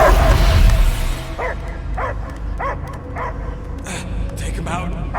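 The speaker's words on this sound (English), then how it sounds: "I hear only barking" A dog barks and yelps in the Guardians of the Galaxy video game, a run of evenly spaced barks over a steady game ambience, with a few higher whimpers toward the end.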